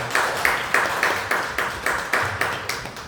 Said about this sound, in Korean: 박수로 축하하고